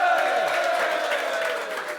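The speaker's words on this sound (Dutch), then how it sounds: "Applaus voor Tim!" An audience at a carnival prince proclamation applauds, giving a dense, steady patter of clapping with voices and cheering layered over it, at a moderate level.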